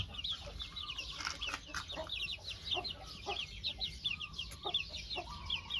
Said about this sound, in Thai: พาพี่น้องมาชมลูกไก่นะครับ